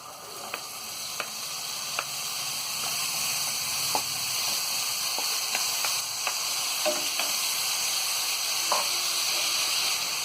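Washed minced mutton keema dropped into hot oil in a pan for Hyderabadi keema fry, giving a loud, continuous sizzle that builds and holds, with occasional soft clicks and stirring taps over the steady hiss.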